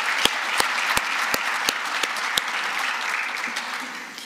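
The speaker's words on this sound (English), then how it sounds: "Let's give another round of applause to President Kaborik." An audience at a press conference claps in a dense, even round of applause with a few louder individual claps near the front, fading slightly toward the end.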